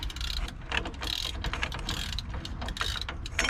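Ratchet wrench clicking steadily while spinning a 13/16 socket during installation of a tubular upper panhard bar on a car, the rapid pawl clicks close and continuous over low mechanical rumble.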